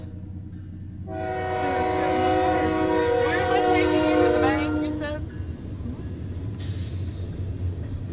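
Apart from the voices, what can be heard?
Canadian National 2343 freight train passing, horn and brakes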